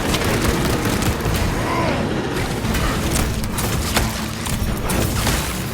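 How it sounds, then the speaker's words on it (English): Frag grenades exploding in the video game Space Marine 2 during a fight against a xenos swarm: dense, continuous loud booming blasts and rumbling battle noise with mechanical clatter, sustained throughout. "Throwing frag grenades!"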